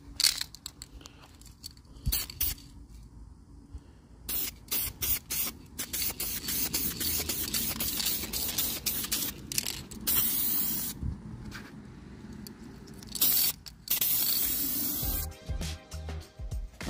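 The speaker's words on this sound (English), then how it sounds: "I make sure to use weld through primer" Aerosol weld-through primer sprayed onto a patch panel of a 1969 Ford Econoline van under restoration: repeated hissing bursts of varying length, some long and steady, with can rattles and handling noises between them.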